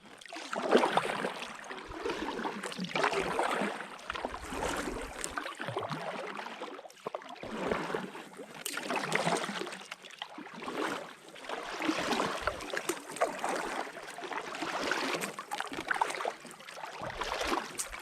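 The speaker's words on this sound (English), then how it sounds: "Right, let's get paddling." A drop-stitch inflatable kayak is paddled across a lake with small wind-driven waves, and regular splashing strokes of water recur every couple of seconds at close range.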